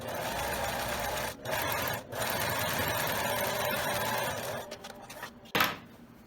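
A sewing machine runs in steady bursts while stitching a second seam on a layered skirt, with short pauses between runs and a brief handling noise near the end; no one talks.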